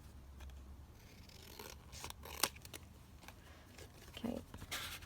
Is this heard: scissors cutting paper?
yes